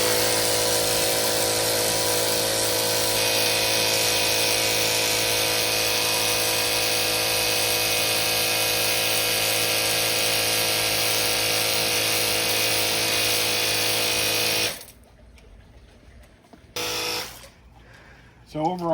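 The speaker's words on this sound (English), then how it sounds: "what a great little pressure washer" Portable pressure washer spraying, a loud steady motor drone with hissing water running close and unbroken for most of the stretch, then cutting off to near quiet before a brief restart and a short burst at the end.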